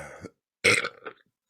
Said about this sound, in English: Oh, I hate chugging beer burps.